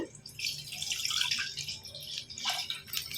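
Milk pours into a pot for junnu, made with jaggery and junnu powder, as a soft, close, continuous liquid trickle with light gurgling for a few seconds.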